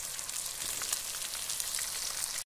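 Potatoes and pumpkin frying in hot oil, a steady dense crackling sizzle that runs evenly and close up, then breaks off abruptly near the end.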